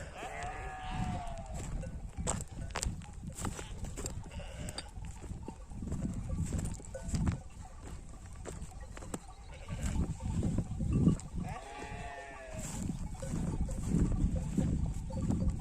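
Goats and sheep bleat repeatedly as a flock moves past on a pastoral outing, several overlapping calls near and far over footsteps and rustling, with a few short voices now and then.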